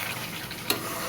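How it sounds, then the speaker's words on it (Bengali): Chicken meat sautéed in a hot pan for a spicy red curry sizzles steadily up close, with one quick scrape of a spoon stirring it and no one speaking. "এখন মাংস কষানো হয়ে গেছে খুব ভালোভাবে"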